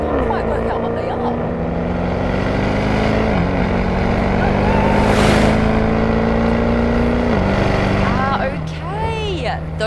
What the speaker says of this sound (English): Those were the new Maserati Trofeos, and they just completely blew us out of the water.